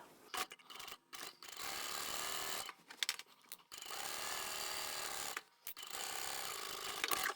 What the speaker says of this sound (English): And then we can take this to the machine and sew both short edges